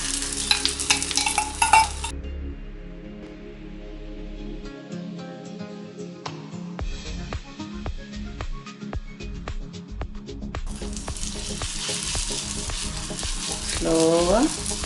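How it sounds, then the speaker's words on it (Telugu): A spicy onion bread omelette sizzles and fries steadily in a pan, with scraping stir sounds as it is worked; the frying is loud and close and runs without talk. "ఆమ్లెట్ అంతా ఇట్లా ప్యాన్ మీద వేసుకొని"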